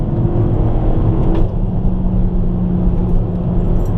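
An Alfa Romeo MiTo QV 170 engine pulls hard under acceleration from around 4000 rpm, a loud steady drone with a rising whine heard from inside the car.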